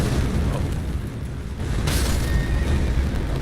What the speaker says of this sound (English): So when he drops with 2 feet, it's like a giant explosion.